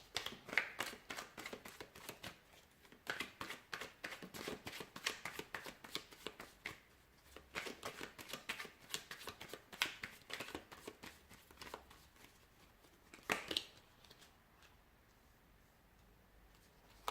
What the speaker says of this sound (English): So we'll give the cards a shuffle and see whom the universe is sending into your life next.